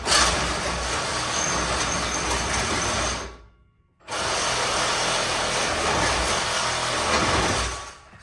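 A power saw cutting through a car's exhaust manifold, a loud, steady, close buzzing grind lasting about three seconds, then stopping briefly before a second long cut that ends sharply.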